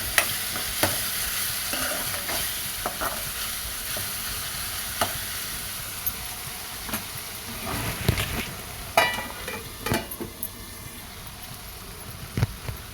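Onions fry in a pan for paneer masala curry with a constant bright sizzle, punctuated by repeated spoon clinks and scrapes as they are stirred; no talking.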